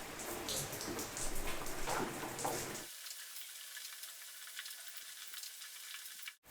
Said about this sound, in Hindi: अब आप देखें तकरीबन 8 से 10 मिनट हो गए इस चिकन को फ्राई होते हुए।